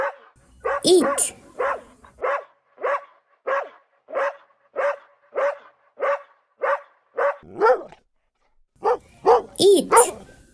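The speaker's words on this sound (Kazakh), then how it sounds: "Ит." A dog barks in a steady series of about a dozen evenly spaced, close, loud barks, stops briefly, then lets out a final cluster of harsher, yelping barks.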